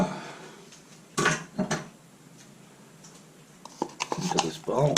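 Blended vegan burger mixture scraped out of a food processor into a bowl: clattering clanks and knocks of utensil against container in short bursts, separated by quieter stretches, with a voice speaking briefly near the end.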